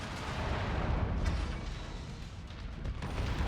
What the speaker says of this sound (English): Incoming missile.